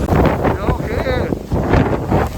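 A strong gust of wind blowing waterfall spray near an Iceland waterfall, roaring and buffeting the microphone continuously with hissing spray, loud and close.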